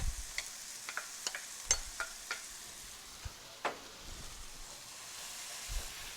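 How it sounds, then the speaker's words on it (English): Zucchini and other vegetables cooking in oil in a covered pan, a soft steady sizzle and hiss with scattered faint pops and crackles, close by and quiet, with no talking. "let's put the lid on and let that simmer again for another 5 minutes"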